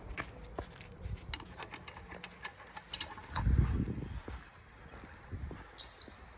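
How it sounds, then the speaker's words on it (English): Metal clicks, taps and clanks while a new bearing is fitted into the pillar of farm machinery used for spreading sewage sludge, with a low thud around the middle, intermittent and moderately quiet, no talk. "just putting a new bearing in the pillar."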